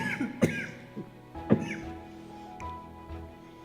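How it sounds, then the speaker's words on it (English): A person coughs from irritating Ballistol oil fumes, giving two sharp close coughs followed by a softer throat-clearing sound over a faint steady hum. "And it makes me cough."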